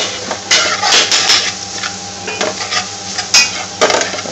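Aubergine for Bangladeshi bortha sizzles steadily in a frying pan while a utensil scrapes and stirs in irregular strokes, close and fairly loud, with no talking.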